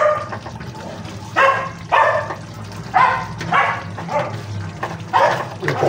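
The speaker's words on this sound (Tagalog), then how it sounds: "Yung pong aso ng kapitbahay." A neighbour's dog barks repeatedly nearby, about seven or eight loud yaps in an irregular rhythm over a low background hum.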